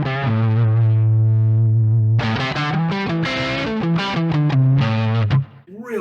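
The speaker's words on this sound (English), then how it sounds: "with the treble all the way on, it makes the neck pickup, which can sound a little bit kind of woolly," Electric guitar through a NUX 6IXTY 5IVE overdrive pedal with the treble turned fully up on the neck pickup, giving a loud driven tone: a sustained low note, then a quick run of picked, distorted notes and chords that ends abruptly.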